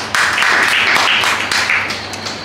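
A children's Sunday school audience claps together in a church, a steady run of clapping that stays fairly loud and even throughout without talk.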